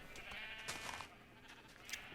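Sheep in the Minecraft video game bleat a few times, faint and short, against a soft, steady background with no talking.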